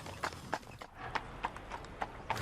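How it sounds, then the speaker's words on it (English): Hooves of a horse pulling a trap clip-clop along a road in an even, moderate rhythm, fairly faint and slightly distant, with no voices over them. "Mo Francis was giving driving lessons on a horse and trap"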